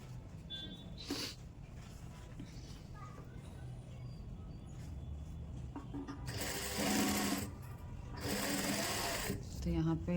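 A domestic sewing machine runs in two loud bursts as it stitches velvet pajama fabric, with a sharp tap near the start and a person talking in between over a steady room hum.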